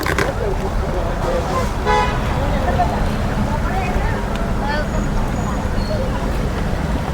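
Heavy traffic on a busy highway toward Virar Road, with repeated car and truck horns honking over a constant road roar, while people talk nearby.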